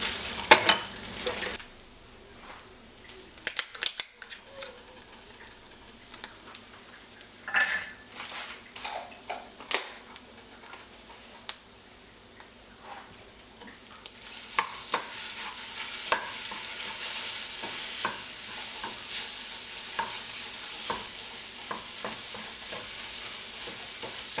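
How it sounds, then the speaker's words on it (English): Cottage cheese being stirred into a bowl of beaten egg mixture for a breakfast dish, with soft scraping and clinking from the utensil against the bowl, irregular and close, and a faint sizzling hiss in the background. "I mix it right in to the egg mixture"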